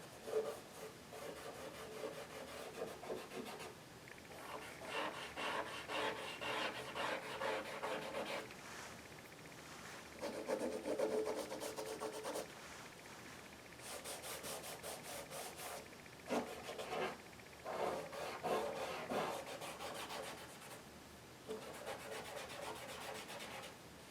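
Pencil shading being smeared and rubbed across paper while drawing a shaded cylinder, a soft dry rasping scrape that comes in repeated strokes with short pauses between them, close up with no voices.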